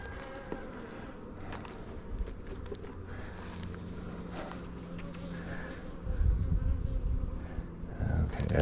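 Honeybees around an open beehive on a farm buzz in a constant close drone, joined by rustling and handling knocks that grow louder near the end.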